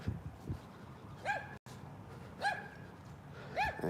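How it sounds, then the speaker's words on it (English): A dog gives a few short barks or yips nearby, spaced out at irregular intervals against quiet outdoor background noise, fairly faint overall. "There's a dog barking right next to me."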